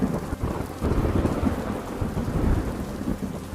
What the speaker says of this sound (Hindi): अचानक तेज हवा चलने लगी। फिर जोर से बारिश होने लगी।